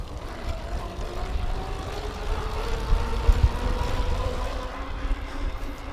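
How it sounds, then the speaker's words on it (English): Steady hum of a PESU Monster 250W e-bike hub motor running while the rider pedals, a low whirring tone with faint rising pitch bands under wind and road rumble, fairly quiet throughout. "And I think this motor is actually very quiet"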